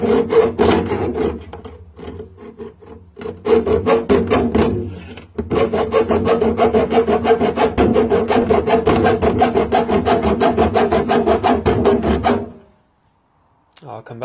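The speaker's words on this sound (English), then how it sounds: "Then use the hacksaw to cut that off." A hacksaw cuts through clamped material in steady, rapid back-and-forth strokes, close and loud. The rasping is unbroken for most of the stretch, pauses briefly early on, then stops near the end.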